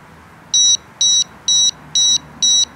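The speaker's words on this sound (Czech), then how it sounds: "a signalizátor se nám rozpípá" A New Direction carp fishing bite alarm receiver from a Bluetooth-linked set beeps five times in an even, steady rhythm. Each beep is loud, short and high-pitched, and nothing else is heard.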